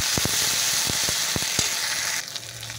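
Ginger, garlic and onion paste sautéing in a hot pan, a steady loud sizzle with a few crackling pops, fading quieter near the end.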